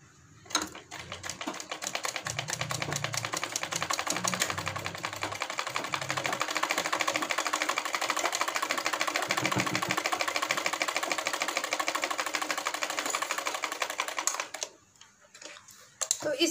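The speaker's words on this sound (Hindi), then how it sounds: "तो वो कच्चा सिलाई पहले हम लगा लेते हैं," A sewing machine stitches the hem of a semi-Patiala salwar in one long, steady, rapid run, close and loud, then stops near the end, with a voice speaking faintly beneath it.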